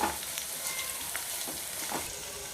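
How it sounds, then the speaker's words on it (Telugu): Cumin and coriander seeds frying in a little oil for mint chutney, a soft steady sizzle up close with a few faint stirring scrapes. "కొద్దిగా ఆయిల్ వేసి జీలకర్ర ధనియాలు వేయించుకుందాం"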